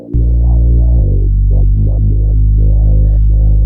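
A loud, buzzy distorted synth bass drones close up, stepping between pitches in an irregular pattern while its tone shifts and wobbles.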